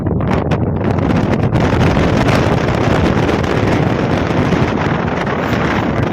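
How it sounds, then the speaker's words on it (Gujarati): Strong wind buffeting the microphone, a constant loud rumbling roar with gusty rustle and no voices. "થોડી વાર પવન બહુ છે યાર"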